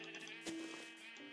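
A Minecraft sheep bleats in a short wavering cry, faint and somewhat muffled against a low background hum, with no speech over it.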